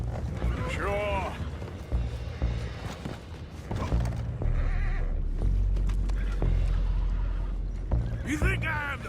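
Horses in the video game Red Dead Redemption 2 whinny and neigh several times amid clip-clopping hooves and mechanical clatter, with characters' voices talking over the action.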